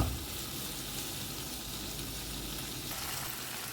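Tomatoes and onions for matar paneer fry on a low flame, giving a soft, steady, even sizzle close by, alone with no talk.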